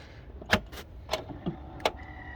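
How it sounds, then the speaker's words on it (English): Power lift gate on an Audi A8L, its motors giving several short whirring bursts close by with pauses between, the gate failing to move. "you can hear the motors going, nothing happens"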